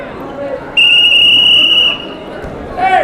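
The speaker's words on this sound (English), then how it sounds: "reacted on that whistle from the other mat" A referee's whistle sounds from another mat at a city wrestling championship finals, one sharp sustained blast of about a second rising over crowd babble, with a fainter chirp near the end.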